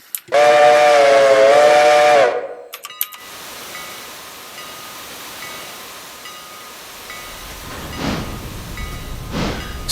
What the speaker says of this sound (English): So, the 2 blasts on the whistle